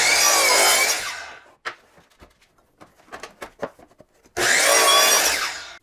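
Two loud bursts from a power miter saw slicing 45 degree cuts through crown molding, each lasting about a second, separated by quieter handling clatter and small knocks.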